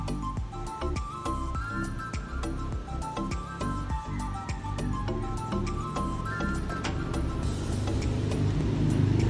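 A motorized tricycle rolls along a Philippine road, its engine a steady rumbling drone that builds louder toward the end amid busy traffic noise, with no talk.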